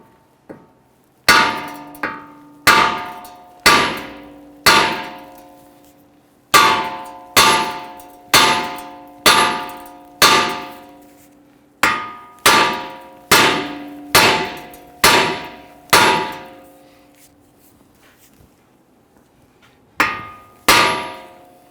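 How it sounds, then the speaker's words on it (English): A steel hammer strikes the steering knuckle of a 2011-2023 Dodge Charger again and again to pop the ball joint loose. Loud, ringing metallic clangs come close up in uneven bursts of two or three blows, with short pauses between them. "we're going to strike the knuckle right here, and that'll release the ball joint from the knuckle."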